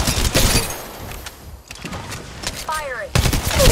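Rapid bursts of gunfire in the battle-royale game Apex Legends, loud and close, with sharp shots, electronic game sounds and brief quiet gaps between volleys.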